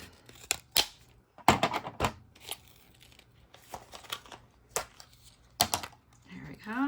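A Recollections-brand blade slices chipboard on a WRMK cut-and-score trimmer, producing a series of close, crisp clicks and short scraping strokes separated by brief pauses, with no talk over it.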